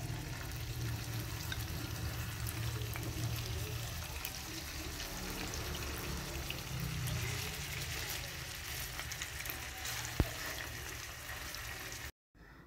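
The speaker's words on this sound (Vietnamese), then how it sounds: "Khi dầu nóng lên, mình cho 4 miếng tàu hũ vào chiên." Four pieces of tofu fry in hot cooking oil in a pan on the stove, giving a steady, soft sizzle that runs throughout with faint crackles and one sharp click near the end.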